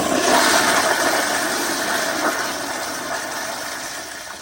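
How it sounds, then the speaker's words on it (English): A 2018 Zurn EcoVantage pressure-assisted toilet flushes with its tank not fully refilled: a loud, close rushing whoosh of water that slowly tapers over a few seconds, with no voices. "let me give y'all one last good flush like this"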